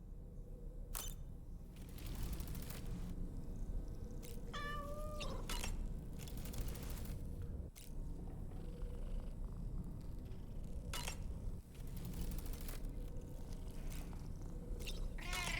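A cat in Death Stranding 2 meows and purrs against a steady wash of game ambience, with a few brief mewing calls over a continuous low rumble.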